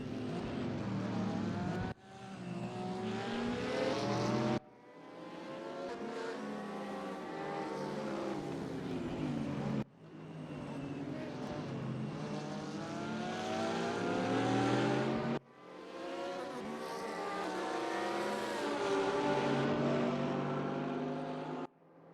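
Porsche and Audi race cars in the ADAC Masters at Bathurst scream past in several loud, close passes, with engines revving and shifting in bursts separated by brief gear-change drops.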